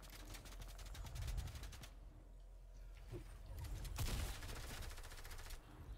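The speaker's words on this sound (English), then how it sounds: "Stop shooting at me, Brendan." Fortnite gunfire, with long bursts of rapid automatic shots that pause briefly and then resume in another sustained volley, heard at moderate distance.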